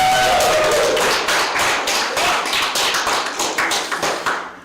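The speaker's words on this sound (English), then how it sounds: "Give yourselves a round of applause." An audience at a two-year anniversary tournament event applauds, a dense burst of many hands clapping together that gradually thins and fades away over a few seconds, with no voices over it.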